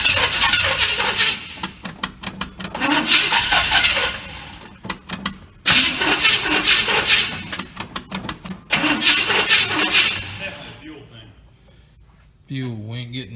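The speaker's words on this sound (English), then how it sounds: "Hit it, Ronnie, see if it'll start." A Small Block 400 V8 engine cranks repeatedly but fails to start because it gets no fuel. The starter whirs in rhythmic bursts with brief pauses, and a voice is heard near the end.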